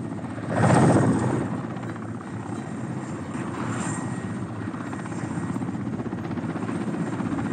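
A helicopter flies overhead, its steady rotor drone swelling loudly as it passes near in the first second, then continuing as a constant churning roar with no voices.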